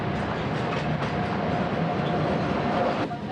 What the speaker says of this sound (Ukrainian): На перон прибув потяг Харків-Трускавець.